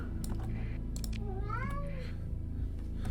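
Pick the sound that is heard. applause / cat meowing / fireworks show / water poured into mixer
cat meowing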